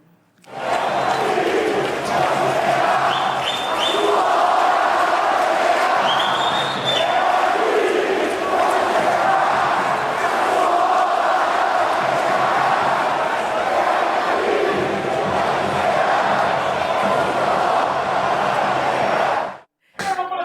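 Maringá football supporters chant taunts at Flamengo, a loud, dense mass of voices sustained for about nineteen seconds before cutting off abruptly near the end.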